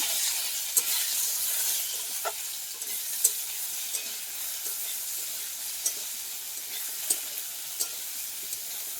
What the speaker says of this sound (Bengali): ঢেঁড়স আর চাল কুমড়োটাকে হালকা করে একটু ভেজে নেবো